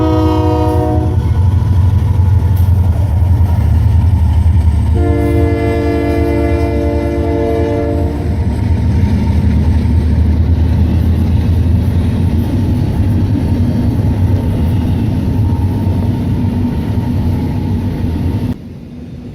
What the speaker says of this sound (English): I caught another freighter heading south, but this time it's an intermodal freight from Seattle to Los Angeles.